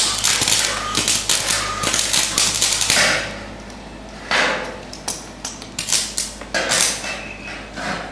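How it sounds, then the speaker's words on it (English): MIG welder tack-welding steel staircase rails for a waterslide, a loud crackling buzz in several bursts, with clanks and taps of metal between them. "now we're going to MIG it just to spot weld it to put it in its right place"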